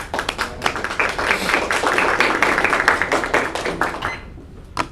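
Audience in a classroom clapping for a student speaker at a public speaking and debate event, a dense burst of many hands that swells for a few seconds and then tapers to a few scattered claps.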